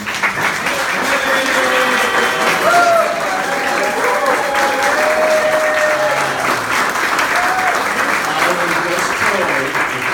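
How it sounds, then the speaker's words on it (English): Audience at a Martin County preservationist award gathering gives a round of applause, sustained even clapping with voices and chatter running underneath. "One more round of applause, please"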